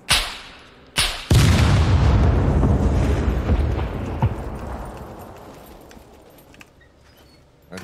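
A C4 charge detonates during a base raid in a survival shooter game, preceded by two sharp blasts, then one huge booming explosion whose rumbling roar slowly fades over several seconds, loud and alone without talk.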